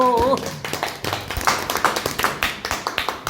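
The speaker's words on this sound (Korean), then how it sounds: "박수" A small group clapping at the close of a peach-growing quality certification training session, with brief speech at the start followed by a run of distinct, fairly close hand claps in a loose, uneven rhythm.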